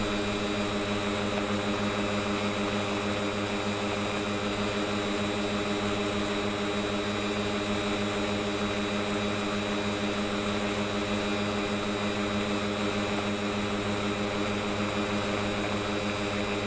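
Kasperwing RC plane with a 3-blade propeller in flight, a steady, loud, buzzing motor-and-prop drone that holds without a break, rich in tonal harmonics and with no voices.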